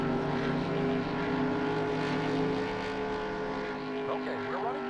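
Steady, droning race car engine from NASCAR Racing 2 (1996), a sustained tonal whine held at an even pitch throughout, with someone talking over it.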